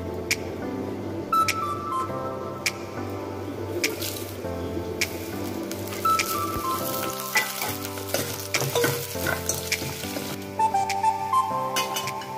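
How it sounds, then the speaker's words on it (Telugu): Cumin, mustard seeds, dried chillies and garlic sizzle and crackle in hot oil for a tempering, a steady close frying hiss with sporadic pops, spoon stirs and clinks, no speech. "నూనె వేసుకొని జీలకర్ర, ఆవాలు, ఎండుమిరపకాయలు, వెల్లుల్లిపాయలు వేసాను"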